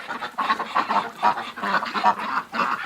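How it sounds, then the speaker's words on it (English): A crowd of ducks quacking continuously and loudly, overlapping calls with no pauses, close by. "But a lot of ducks, guys."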